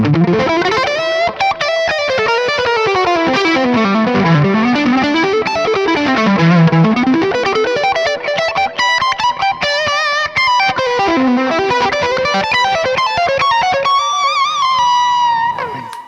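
A distorted electric guitar plays a melodic lead line through a Mesa Boogie Mark IIC+ amp simulation with low end cut, sustained notes and bends with a chorus-like shimmer, loud and continuous.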